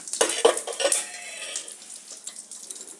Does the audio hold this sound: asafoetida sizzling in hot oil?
yes